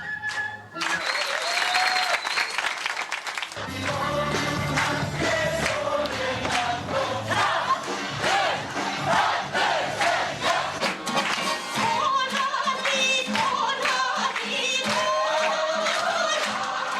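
A large audience applauds and cheers after South Korean youths in handmade costumes perform a kkokdugaksi puppet dance, the clapping dense, loud and sustained with shouts and some musical tones mixed in.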